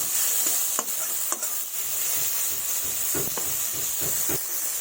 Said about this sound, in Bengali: এবারে সোয়াবিনগুলোকে ভালোভাবে ভেজে নেব।